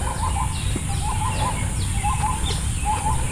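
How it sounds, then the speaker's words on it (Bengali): Birds of many kinds call among trees on a rainy day at Santiniketan, Bolpur. Short repeated chirps and clucking notes come in small bursts over a steady, dense background hum. "কত রকমের পাখি যে ডাকছে"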